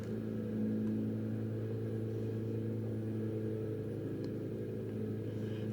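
Lawnmower droning steadily in the background outside a home, a faint, even low engine hum throughout with no talking.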